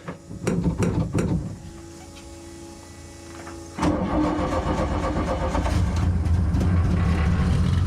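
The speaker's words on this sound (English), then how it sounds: "as you can hear, the car's running" A car engine on a 24 Hours of Lemons endurance race car, nearly out of fuel, cranks a few times, goes quiet briefly, then catches and roars into a steady close idle.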